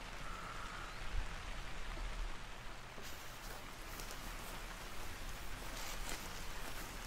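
Constant rainfall pours on Mount Leviathan in the hunting game theHunter: Call of the Wild, a broad steady wash of drops under a low windy rumble on a cold day, with no one speaking.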